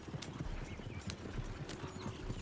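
Horses galloping in the video game Red Dead Redemption 2, a fast steady clip-clop of hooves over a low rumble with faint snorting, continuous and close throughout.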